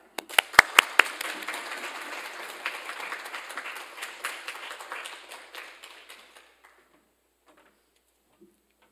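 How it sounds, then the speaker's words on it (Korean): Church congregation at a Sunday service applauding a preacher's entrance, a few sharp claps opening into steady clapping that fades out after about six seconds, followed by near silence. "박수로 환영해 주시기 바랍니다."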